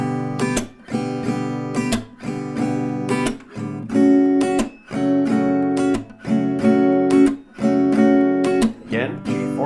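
A guitar plays the chorus of a song: rhythmic strummed chords in repeating bursts with short breaks, close and clear, with no voices.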